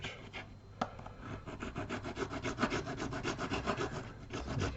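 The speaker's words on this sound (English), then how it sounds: "We'll use sandpaper" Sandpaper rubs back and forth on a model railway track, giving close, rhythmic scratchy strokes that repeat steadily with no one talking.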